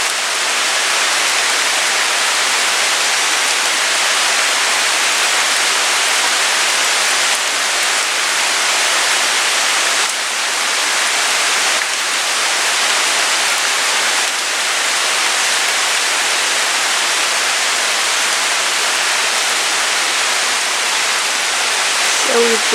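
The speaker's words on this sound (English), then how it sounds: "as you can tell, it's Thursday and it's raining" Steady rain falls in a backyard, a loud, constant, even hiss that holds without a break from start to finish.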